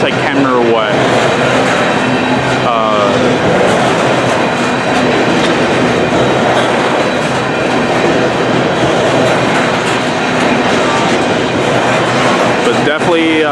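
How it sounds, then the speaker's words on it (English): A mixed freight train rolls past on the rails in New Westminster, a loud, continuous rumble with rhythmic wheel clatter and squealing flange noise throughout, heard up close. "Here comes the last train for the"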